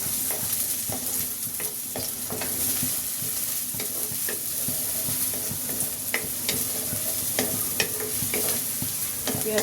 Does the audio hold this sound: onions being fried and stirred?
yes